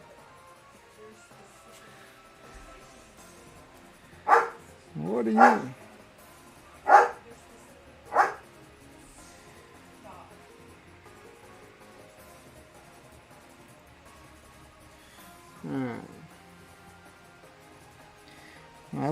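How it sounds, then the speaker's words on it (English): A dog barks in several single sharp woofs at a moderate distance, then falls quiet before one last bark, over a quiet room while a person says a few words. "I heard the doggo barking."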